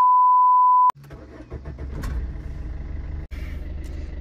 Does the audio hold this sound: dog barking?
no